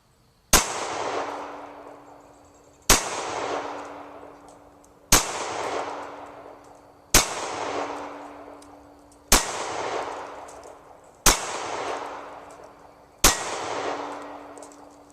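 Seven loud, sharp pistol shots from a Ruger SR45 firing 230 grain .45 bulk ammunition, evenly spaced about two seconds apart, each with a hard crack and a ringing decay, heard close at an outdoor range.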